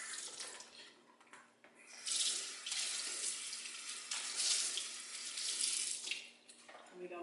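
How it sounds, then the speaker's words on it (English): Cold tap water runs steadily into a kitchen sink as meat is rinsed under it, a continuous splashing hiss that swells and dips slightly, close by and with no talking. "Always rinse off in cold water."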